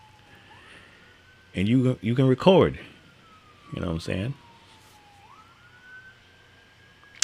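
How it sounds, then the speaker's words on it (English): Emergency vehicle sirens wail in slow rising and falling sweeps from the nearby expressway, moderately distant, while someone talks in the foreground indoors. "we hear all the sirens when they rush to the expressway when there's an accident or something."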